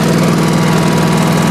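A 1986 Honda HT3810 lawn tractor drives in first gear, its engine a loud, steady, close-up drone with a fast pulsing throb and no voices.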